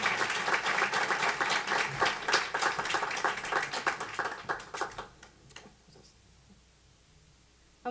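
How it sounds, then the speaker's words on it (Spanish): Audience applauds a guitarist at a 2016 concert, dense clapping for about five seconds before it thins out into a few scattered claps and quiet. "Un fuerte aplauso para Adolfo."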